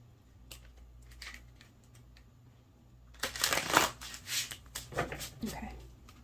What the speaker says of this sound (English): Get some good shuffles in.